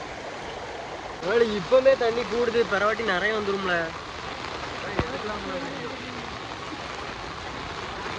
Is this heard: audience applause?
no